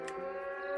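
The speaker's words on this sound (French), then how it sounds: "la sonnerie, les sirènes, vous voyez" A siren gives a brief, steady, faint wail, a sustained tonal sound heard alone for under a second.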